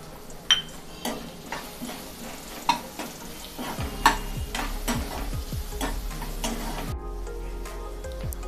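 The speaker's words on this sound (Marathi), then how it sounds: "आता आपण यामध्ये बारीक चिरून घेतलेला कांदा ॲड करणार आहोत आणि हा छान सॉफ्ट होईपर्यंत आपण परतून घेणार आहोत।" Finely chopped onion sautéing in a pan for dal palak, a soft steady sizzle broken by sharp metallic clinks of a spoon against the pan, and a low rumble that comes and goes.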